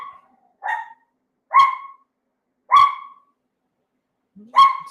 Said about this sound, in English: that's our crazy Chihuahua background barking away